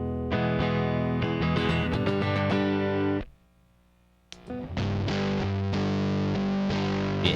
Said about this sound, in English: And you can hear the guitar.